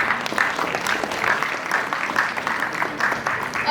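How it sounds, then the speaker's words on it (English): Audience at an international startup pitch competition applauding a presenter, a steady dense wash of many hands clapping throughout, fairly loud and close. "A huge round of applause for Random Studios"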